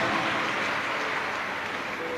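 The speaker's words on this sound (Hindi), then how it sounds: "एक बार जोरदार ताली बजाओ" An audience at a Shiv Mahapuran katha claps loudly together, giving a dense, continuous patter of applause that stays strong for the whole short stretch.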